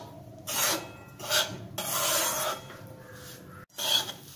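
A spoon scraping and stirring finger millet flour as it roasts in a pan over low heat, heard as close, repeated rasping strokes in uneven bursts, with no voices.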